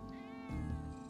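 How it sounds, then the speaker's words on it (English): A cat in Final Fantasy 7 Remake meows once, a short, fairly quiet call over a steady humming game background, with a slightly louder tonal swell midway. "Good little kitty cat. Be quiet."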